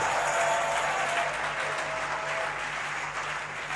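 A church congregation applauds, a dense steady wash of many hands clapping together at even loudness for a few seconds, with no talk over it.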